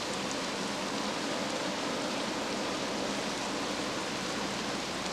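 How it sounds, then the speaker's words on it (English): Heavy rain falls in a thunderstorm, giving a dense, even hiss of downpour that stays constant and moderately loud with no other sounds on top. "Just a lot of rain."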